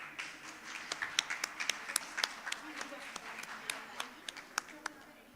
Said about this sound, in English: Let's welcome her with a huge round of applause.